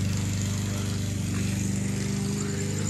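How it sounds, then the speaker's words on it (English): A lawn mower runs steadily as someone mows the front yard, a constant loud droning engine with no breaks. "He's mowing the front right now."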